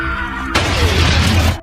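A film explosion blowing a dark king apart, a sudden loud burst of crashing, shattering debris that erupts after a half-second of low rumble and roars for about a second before cutting off.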